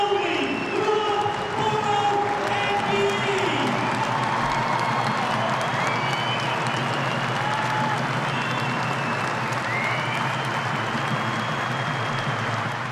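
A 10,000-strong stadium crowd rises in a standing ovation for a guest of honour at Headingley, producing steady, dense applause and cheering with a continuous roar of voices throughout.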